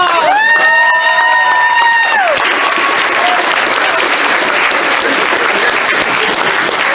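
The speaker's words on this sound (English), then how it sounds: "Give him a round of applause!" A comedy show audience breaks into loud, sustained applause and cheering, a dense wash of clapping that fills the room after a brief whistle-like tone at the start.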